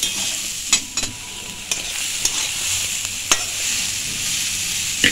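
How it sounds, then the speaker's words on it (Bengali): Lentils and vegetables are stirred in a pot with a spoon, making clear scraping knocks at uneven intervals over a steady background sizzle, close and with no talking. "এখানে আমি একটু ভালো করে নেড়ে নিচ্ছি"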